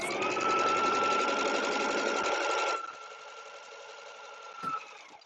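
A sewing machine stitches quilt blocks in a steady, fast whirring run that stops partway, leaving a faint lingering hum and a brief clunk near the end, close up with no talk.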